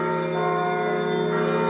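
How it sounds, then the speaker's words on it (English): Bells of St. Michael's Golden-Domed Monastery ringing, a sustained rich tone with layered overtones and a large bell among them, steady and loud throughout with no talk. "Yes, those are real bells, not a recording."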